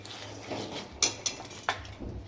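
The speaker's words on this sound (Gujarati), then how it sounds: "હવે આપણે આ સિંગદાણા જે લીધેલા છે એ નાખી દઈશું।" Peanuts tip into a pan of jaggery for chikki, giving a few sharp metallic clinks and clatters against a quiet kitchen background.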